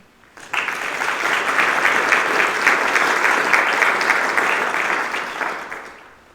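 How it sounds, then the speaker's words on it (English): Sustained audience applause at a 2023 National Honor Society induction ceremony, a dense steady wash of many hands clapping that starts abruptly, holds for about five seconds and then fades. "Please join me in thanking all whom I've mentioned with a round of applause."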